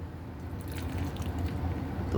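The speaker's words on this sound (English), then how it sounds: "We'll give it an aggressive pour." Hefeweizen beer poured hard from a can into a glass, a close, soft gurgling splash and fizzing foam building steadily over a couple of seconds, with no talking.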